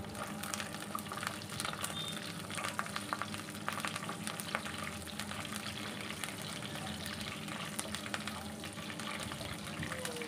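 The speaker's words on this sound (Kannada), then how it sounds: "ಶೇಂಗಾ ಬೀಜನ ಚೆನ್ನಾಗಿ ಫ್ರೈ ಮಾಡ್ಕೋಬೇಕು." Peanuts fry in a pan for bisi bele bath, a steady dense crackle and sizzle running the whole time at moderate level, with faint scraping and stirring over it and no talk.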